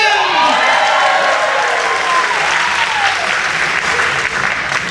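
A circus crowd bursts into loud, sustained applause and cheering, dense clapping and whoops holding steady at full volume throughout with no break.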